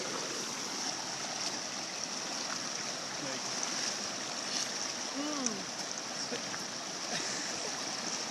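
A strong river current rushes over rocks in the wild, a continuous broadband wash of flowing water heard close but at modest level, with faint clicks, splashes and a brief distant voice-like sound beneath it.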